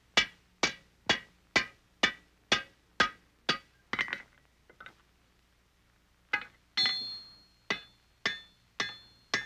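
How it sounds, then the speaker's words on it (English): Hammer blows forge-welding the seam of an iron rifle barrel on an anvil, about a dozen sharp ringing strikes in steady rhythm, a short pause with faint clatter, then the strikes resume, close and clear with no talk. "You start welding the barrel in the middle and work toward the ends."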